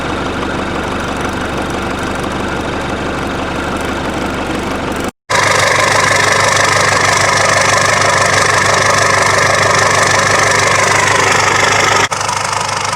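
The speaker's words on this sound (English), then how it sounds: "So yeah, that's a cold engine right now." A cold 4BT diesel truck engine idles with a steady, low knocking rumble. It cuts out briefly and then resumes at the same even idle. No talking.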